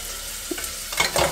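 Finely chopped onion hitting hot oil in a cooking pan, giving a brief soft sizzle with a couple of stirring scrapes near the end, close and fairly quiet.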